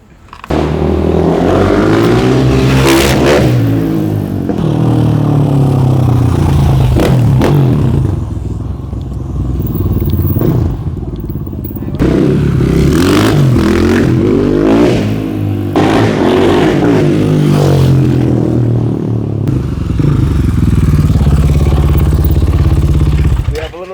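A KTM 500 XCF dirt bike set up as a supermoto revs repeatedly in a parking lot, its engine rising and falling in loud bursts with brief pauses, while people talk over it.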